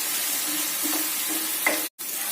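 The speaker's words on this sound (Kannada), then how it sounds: "ಈರುಳ್ಳಿ ಚೆನ್ನಾಗಿ ಫ್ರೈ ಆಗ್ತಾ" Onion with salt frying in a pan for tomato curry, giving a soft, steady sizzle with a few faint stirring scrapes before the sound cuts out briefly near the end.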